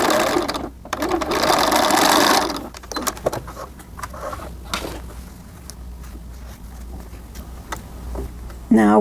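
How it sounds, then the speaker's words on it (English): A sewing machine runs a fast, close burst while sewing the back crotch seam of small denim jumpsuit pants, followed by scattered clicks and handling sounds. "Our next step for this jumper will be to sew the back pants together at the crotch."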